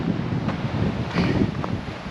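Strong wind gusts buffet the microphone on the summit of Wasson Peak in Saguaro National Park, Arizona, a loud, rumbling roar that surges and eases in uneven waves.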